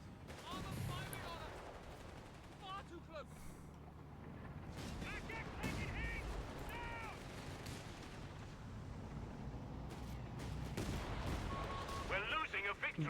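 Gunfire and artillery explosions in Company of Heroes 3 thud and crack steadily under a caster's talk, with bursts of shooting and heavier impacts growing denser toward the end.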